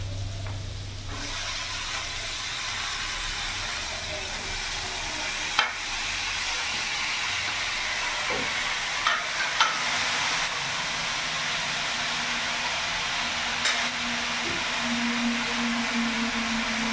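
Chopped vegetables and spinach sizzle and hiss steadily in a hot pan for a vegetarian spinach ghonto, with a few scattered clicks from stirring against the metal.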